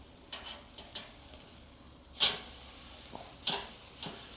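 Flank steak searing over a hot Breeo wood-fire pit grill: a soft, steady sizzle with faint crackles and two brief louder hisses as the meat is turned, fairly quiet and without talk.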